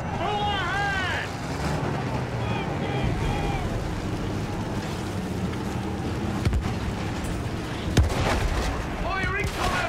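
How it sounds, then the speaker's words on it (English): Battlefield 1 battle with artillery fire: loud, dense rumbling booms and gunfire layered under engine and water noise, with voices shouting over the din. "Artillery's tearing the boys apart!"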